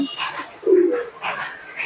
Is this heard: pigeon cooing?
yes